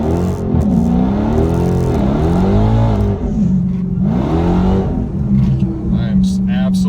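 Loud, continuous engine roar of a 2019 Dodge Challenger Scat Pack or Hellcat launching on a street, revving in rising sweeps with wheelspin, two or three surges across the run, with a voice partly audible over it.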